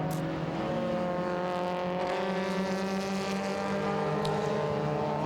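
Racing cars including a Triumph Spitfire and MGs at Winton circuit, engines droning steadily at a distance with rising and falling tones as they chase through corners, no voices.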